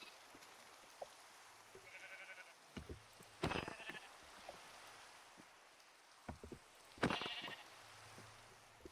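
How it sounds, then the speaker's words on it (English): A Minecraft sheep bleats in short, separate calls at a moderate level over faint background ambience, with light clicks between them. "My first sheep."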